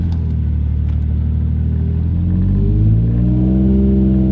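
Car engine rumbling steadily on a short drive after a fault that made it stall, a constant low drone inside the cabin with the revs rising gradually toward the end, no talk.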